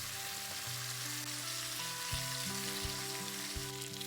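Pork belly and whole garlic cloves fry in a pan in a country home kitchen, giving a steady, dense sizzle throughout, close and even, with no talking.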